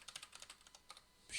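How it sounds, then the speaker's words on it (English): Quick light clicks of typing on a computer keyboard, a rapid irregular run of keystrokes close by, ending with a brief louder noise. "you can just use tab and only use the keyboard"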